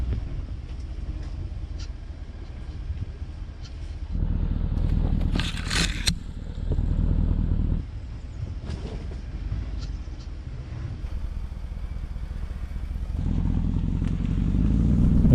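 Bentley Bentayga driving off-road through bumpy woods, a low engine rumble that swells and eases as it climbs, with rattles and a brief scraping burst midway, steady and fairly close.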